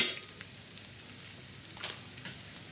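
Oil in a pan with onion, stirred with a spatula or spoon, giving a faint, steady low sizzle with a few soft scrapes and light clicks, close by and with no talking.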